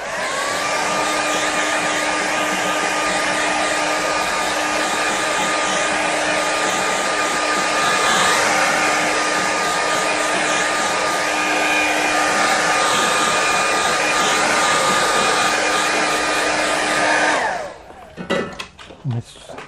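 A hair dryer blows steadily and loudly on a watercolour river painting for about seventeen seconds, then switches off, leaving brief handling noises.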